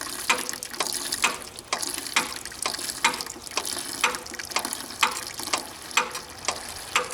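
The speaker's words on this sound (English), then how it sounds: "just gonna go ahead and pump it until we get some good red fuel out of there instead of that nasty yellow stuff" A hand pump is worked by hand to push fuel through the diesel fuel system of a 1959 Caterpillar D337F, giving regular mechanical clicking and squeaky strokes about twice per second, close and steady.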